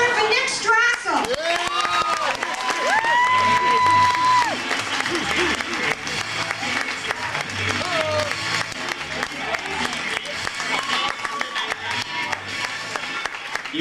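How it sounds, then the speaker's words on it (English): Applause and scattered cheers from an audience at an improv comedy show in Los Angeles, clapping rising then settling into a lively wash, with a woman's whoop and some talk and music mixed in. "You guys are clapping way too much."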